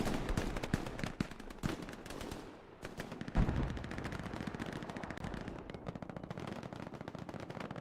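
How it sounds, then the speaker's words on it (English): Machine gun hip fire in the video game Hell Let Loose, rapid bursts of gunfire with dense rattling shots, fairly faint and continuous through the whole stretch. "just hip firing an MG"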